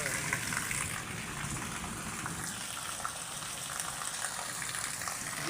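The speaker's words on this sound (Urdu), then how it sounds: "تو آپ کو بھی دکھاتے ہیں کہ کیسے بارش زور و شور سے ہو رہی ہے" Heavy rain pours down hard in Pakistan with water gushing and splashing, a loud, constant hiss and rush that holds steady throughout, and a voice is faintly present beneath the downpour.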